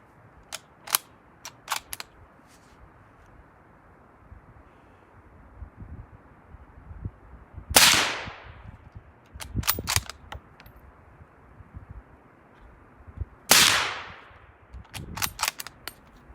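Ruger Gunsite rifle in .308 with a SilencerCo Saker 7.62 suppressor attached, firing two loud, sharp suppressed shots several seconds apart outdoors, with scattered small clicks and handling noises between them and no talking.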